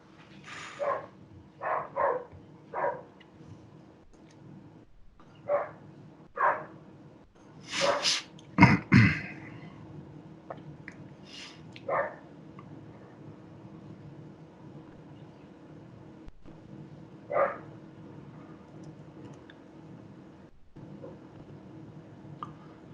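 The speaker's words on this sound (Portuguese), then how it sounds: "tem um cachorro latindo aqui" A dog barks in scattered bursts at a distance, with quiet gaps between volleys over a low steady hum.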